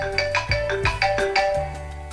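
Electronic ringtone from Scratch's built-in sound library: a bright, repeating chiming melody with evenly spaced tonal notes, loud and close, playing alone for about two seconds.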